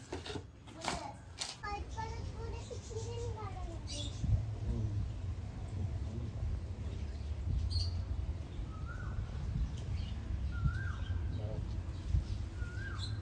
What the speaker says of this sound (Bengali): শুনছিস কোকিল পাখি ডাকছে